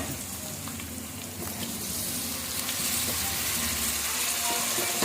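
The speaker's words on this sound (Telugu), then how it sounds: "ఈ పుదీనా కొత్తిమీర ఒక టూ మినిట్స్ పాటు వేయించుకుంటే చాలండి" Fresh mint and coriander fry in a pan for a cashew-paste chicken dum biryani. The sizzle is soft and continuous and swells slightly toward the end, heard close with no talking.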